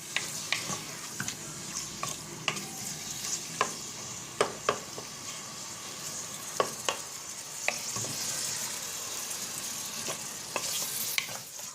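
Chicken cut into small square pieces frying in a pan with salt, a steady close sizzle broken by sharp clicks and scrapes of stirring spread through the whole stretch, with no talking.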